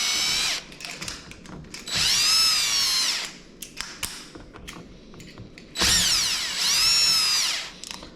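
A power drill drives screws into a ceiling while mounting a ceiling fan light in a condo, running in two long whirring bursts that rise and fall in pitch, with short clicks and handling noises in between.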